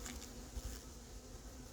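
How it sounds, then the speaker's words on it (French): A hornet hovers near beehives in an outdoor apiary, giving a faint, continuous insect buzz, with other bees likely humming in the background. "Voilà un frelon sur la ruche d'à côté."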